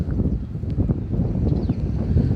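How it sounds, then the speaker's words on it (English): Wind gusting across a fish quay in Teignmouth on a rainy day, a steady broadband rush with low rumbling buffeting, loud and continuous throughout with no voices. "Windy fish quay."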